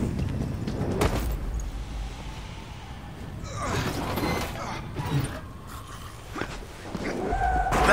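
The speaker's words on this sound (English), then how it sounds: "That sounds like a car." A car engine in the Deadlight video game grinds and rumbles amid mechanical creaks and clanks, with several sharp knocks and a rising low roar toward the end, fairly close and loud.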